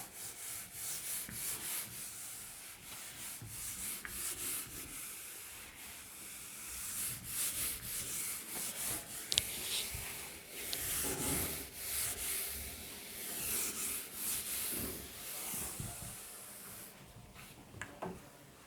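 Rubbing out writing on a board with a duster, a soft, steady scrubbing and brushing that continues in repeated strokes at close range, alone without talk.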